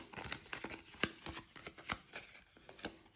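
Playing cards shuffled for the Stranger Things: Attack of the Mind Flayer board game, a close run of papery riffles and crinkly snaps with several sharper clicks, fairly quiet and with no voices.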